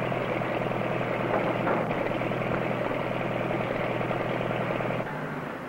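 A steady, loud engine rumble idles continuously with a constant low drone, easing slightly near the end.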